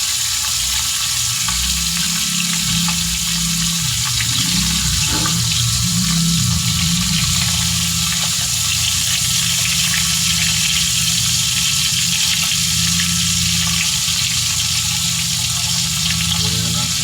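A second batch of food frying in a pan for a home-cooked breakfast, a loud, steady sizzle that runs continuously with faint stirring and clatter.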